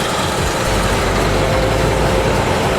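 John Deere combine harvesters with McDon FED 140 headers run with rotors at full speed separating grain from straw, a loud, steady low engine drone and broadband mechanical roar filling the whole stretch without pause.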